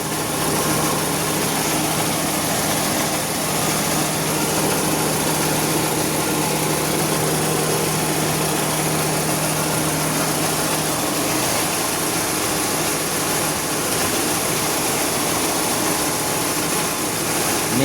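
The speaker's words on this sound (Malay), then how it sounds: "Ini bunyi kereta sebelum kita pakai produk ni lah." Car engine idling before an additive treatment, running with a slight shake: a steady, close hum with a faint whine, unchanged throughout, with no talking.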